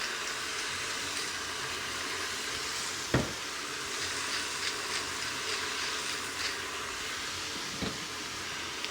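Peppers sizzle steadily in a kitchen robot stir fry machine, a soft even frying hiss with a couple of faint clinks from the stirring mechanism and no voices.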